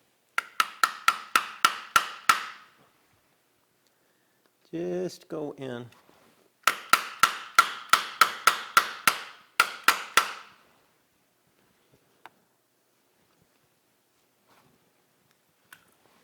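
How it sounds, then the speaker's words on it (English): A machinist's soft hammer taps precision-ground metal blocks into place on a mill table, in two quick runs of sharp, evenly spaced knocks. A short burst of speech falls between the runs. "here's my soft hammer."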